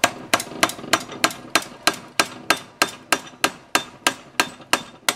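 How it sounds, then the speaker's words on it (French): A hammer strikes a screwdriver against a part on a 2010 Chevrolet Aveo with a brake-shudder fault, about fourteen sharp metallic taps in steady rhythm, loud and close with no talking. "je vais le taper vers l'extérieur. Donc, je vais prendre un tournevis, je vais prendre un marteau."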